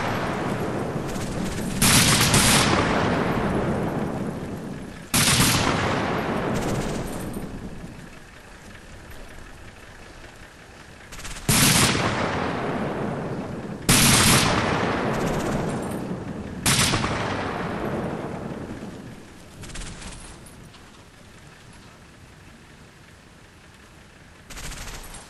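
Machine gun team in Combat Mission laying down area fire: several loud bursts of automatic gunfire about every few seconds, each with a long decaying echo, over a low engine idle with no talking.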